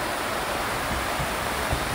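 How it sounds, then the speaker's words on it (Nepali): A stream babbles through a jungle, a dense, steady rush of flowing water, close and fairly loud, with no voices. "कलकलाउँदो खोला यहाँ जङ्गलको बिचमा।"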